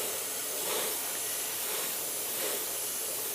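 Continuous hissing spray of paint onto crappie fishing bait, a steady airy rush with slight swells, close and alone.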